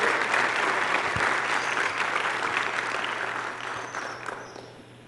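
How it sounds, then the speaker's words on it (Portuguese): Church congregation clapping for Jesus during a sermon, a full room of hands ringing loudly at first and gradually tapering off toward the end. "dá uma salva de palmas para Jesus"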